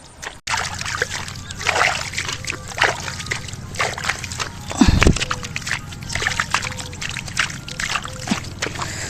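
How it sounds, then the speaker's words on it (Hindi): Water sloshing and splashing steadily up close as it is cleared out of a rain-flooded rice paddy, with one heavier splash partway through. "तो अभी यहाँ पे मैं कोशिश कर रहा हूँ ताकि खेत से पानी बाहर कुछ ना कुछ निकल जाए।"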